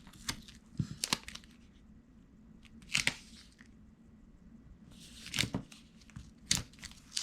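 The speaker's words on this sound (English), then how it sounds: "So I'm going to place down about 5 strips of tape." Strips of tape pulled and laid down for a mini notebook craft: several short ripping, crinkling bursts in a quiet room, close and fairly soft, with pauses between each strip.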